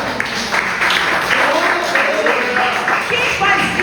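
A church congregation claps together in steady, sustained applause that fills the room, with voices mixed in underneath.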